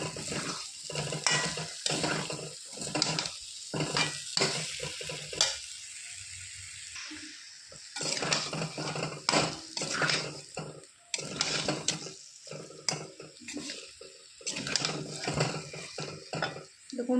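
Boiled potatoes frying with spices in a pan, stirred in repeated scraping strokes over a soft sizzle, fairly quiet with a brief lull midway.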